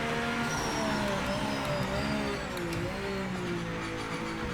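A hypercar engine in the racing game Project Motor Racing, sharing its sound with the BMW M8, holds a steady, droning rev with gently rising and falling pitch, loud and continuous throughout.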